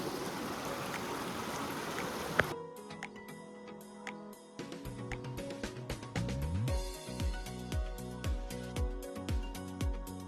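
Water rushes steadily near Handibhang waterfall in Keonjhar, Odisha, a broad hiss for the first couple of seconds before it gives way to clicking, tonal sounds.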